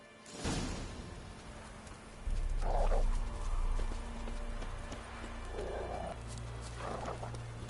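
Roach, a horse in The Witcher video game, gallops with steady hoof beats and an occasional snort or whinny over a low ambient game backdrop, at moderate volume and fairly close.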